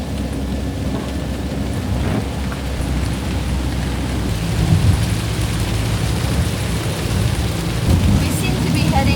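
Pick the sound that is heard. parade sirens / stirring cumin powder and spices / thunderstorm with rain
thunderstorm with rain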